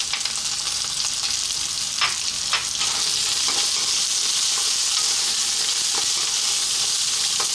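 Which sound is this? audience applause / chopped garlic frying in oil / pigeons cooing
chopped garlic frying in oil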